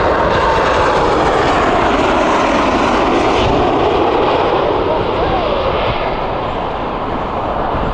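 An unpainted airliner at Heathrow Airport roars loudly and steadily with jet engine noise across the whole stretch, a broad, sustained wash whose pitch drifts slightly as it moves.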